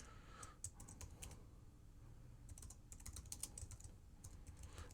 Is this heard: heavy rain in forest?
no